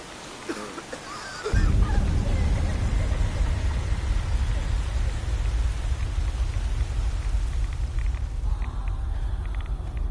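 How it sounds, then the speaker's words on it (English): Steady, heavy rain pours in the video game Fallout 4 Far Harbor, starting abruptly and continuing as a dense, close hiss, with a low rumble of thunder running beneath it. "that thunder shit sounds so much scarier"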